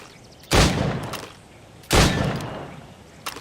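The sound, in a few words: gunshots fired at targets in video game Assassin's Creed Rogue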